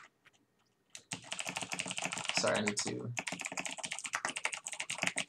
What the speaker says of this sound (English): As you hear my mechanical keyboard and how sexy it sounds.